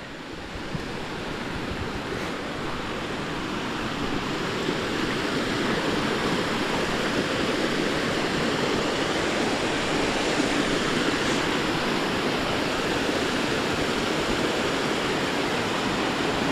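A small waterfall and rushing mountain torrent pour steadily, a loud, continuous broadband roar that holds unbroken throughout with no voices.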